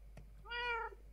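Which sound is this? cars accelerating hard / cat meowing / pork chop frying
cat meowing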